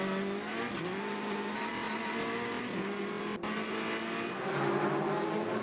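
Touring race cars roar past during a 2013 WTCC race in China, engines loud and sustained with continuous revving and brief tire squeal, no talk.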